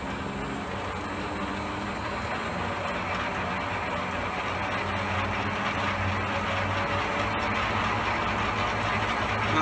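Elliot 14S machine running steadily with its speed wound up, a continuous broadband mechanical drone and hum at constant loudness, close by, with no talk.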